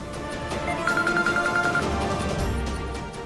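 A telephone rings with a repeated electronic tone, heard indoors at moderate loudness over a low background hum, with no one speaking.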